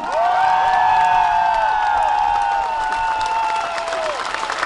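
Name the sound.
audience applause at dance show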